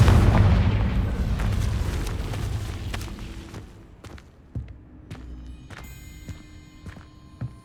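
A Confringo spell explosion in the game Hogwarts Legacy, a loud deep boom that rumbles and fades over several seconds, followed by scattered crackling debris clicks and light footsteps.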